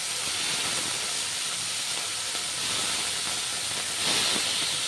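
Fish sizzle in a pan of hot oil, a loud, steady frying hiss that holds throughout and flares briefly near the end.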